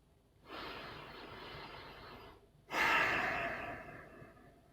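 Two slow, close breaths fill the quiet: a long inhale lasting about two seconds, a brief pause, then a stronger, louder exhale that fades gradually, taken during an EFT tapping session.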